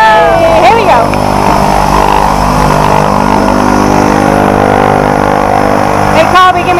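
An airplane engine drones loudly and steadily before a tandem skydive, a close, continuous roar with a brief change near the end.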